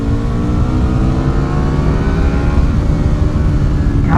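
An Aprilia Tuono V4 and a 2021 Ducati Streetfighter V4S accelerate hard together, a loud, continuous engine roar with rising pitch as the revs climb through the gears.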